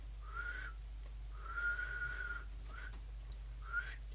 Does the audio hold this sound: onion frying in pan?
no